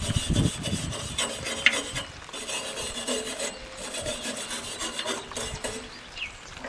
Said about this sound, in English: So just run your brush along those.